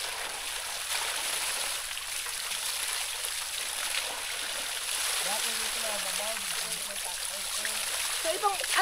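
A river stream rushes and splashes steadily on a cacao farm, a constant broadband wash of water, with a person talking briefly near the end.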